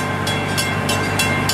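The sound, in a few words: Gatorland Express train arriving at the station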